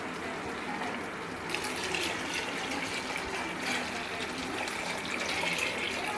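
Water pours steadily from a vessel into a cooking pot for vegetable dum biryani, a continuous splashing fill heard close up and fairly soft, with a brief shift in tone partway through.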